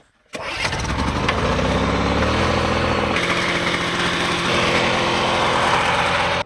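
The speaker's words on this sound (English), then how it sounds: "get the generator turned on" A portable generator starts abruptly and settles into a loud, steady running drone with a buzzing mechanical hum, close by in an off-grid camp, used to charge a Bluetti AC200L power station.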